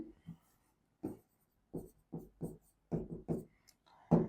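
Chalk or marker strokes on a board as a metric definition is written, short scratchy bursts in an irregular rhythm separated by quiet gaps, close and clear with no speech over them.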